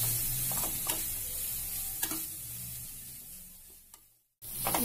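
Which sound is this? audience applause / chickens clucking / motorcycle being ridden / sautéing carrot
sautéing carrot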